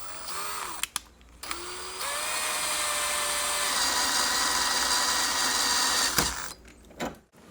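A power drill drives a soap-lubricated screw into wood while fastening a Kwikset Smartcode 270 electronic lock. A close, loud whine rises in pitch and holds for about four seconds, framed by short clicks before and after.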